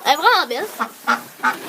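Someone speaks briefly, then a female duck on a small farm gives three short, evenly spaced quacks close by.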